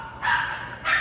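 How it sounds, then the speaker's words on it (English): Dogs barking indoors, two short bursts of barks close by, the second following after a brief pause. "sorry about the dogs."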